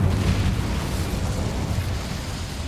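An Incendio fire spell erupts in Hogwarts Legacy, a loud roaring burst of flame that rumbles on as a sustained blast, with no voices over it.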